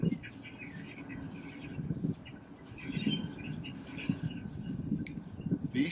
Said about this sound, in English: the bird looks as if it is about to explode and in the process utters a little squeak